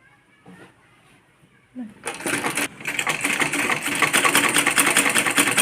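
A sewing machine stitching kurti fabric starts up after a quiet pause and runs in a loud, rapid, steady chatter for several seconds, with light handling noises before it begins.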